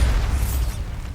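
A Bombarda exploding spell goes off in the video game Hogwarts Legacy: a brief, heavy, low blast with a hissing burst that cuts off quickly.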